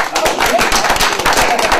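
Audience at a live talk event applauding a volunteer, a dense steady wash of clapping that fills the whole stretch at close, fairly loud level.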